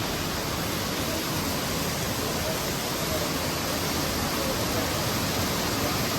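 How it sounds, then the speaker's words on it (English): A waterfall at natural hot springs roars as a dense, steady wash of broadband noise, constant and fairly close, with no other sounds over it. "Look at this beautiful, stunning waterfalls."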